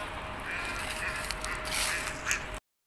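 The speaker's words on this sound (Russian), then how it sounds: "И уточек, столько чаек сегодня." Ducks quack and gulls call at the winter seaside in Mersin, with several squawks and honks in a row over steady wind and surf noise.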